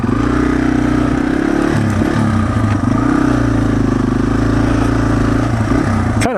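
A Yamaha TW200 motorcycle ridden around a yard gives a loud, close, steady engine drone that rises and dips slightly in pitch, with no speech over it.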